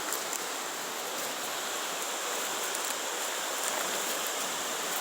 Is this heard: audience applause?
no